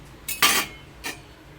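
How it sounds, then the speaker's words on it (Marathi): A spoon knocking against a pot of cooking rice for spinach rice, two quick metallic scrapes and clinks, close and brief. "थोडासा मी एकदा परत चमचा मारते त्याच्यावरती"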